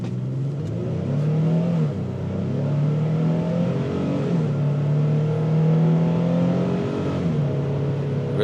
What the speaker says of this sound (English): Really good acceleration.